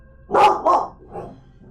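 A dog barks twice in quick succession, then gives a softer, lower growl-like bark, loud and close, in the Assassin's Creed Origins video game, with no talk.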